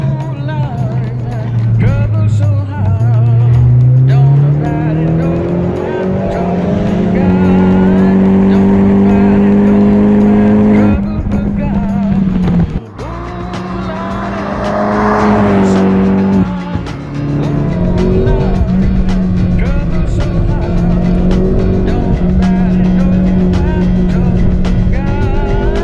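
Opel Corsa OPC front-wheel drive hatchback accelerating hard, its engine note loud and close as it climbs through revs and shifts gears, with tire squeal and a person talking over it.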